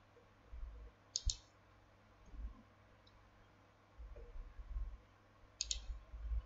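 Computer mouse clicks while working in CAD software: a few sharp, quiet, isolated clicks, including a close double click and a later pair, in an otherwise quiet room.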